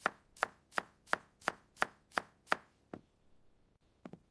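A knife cuts vegetables on a board in a kitchen: eight evenly spaced crisp chops in steady rhythm, close and clear, followed by a pause and two quicker final taps.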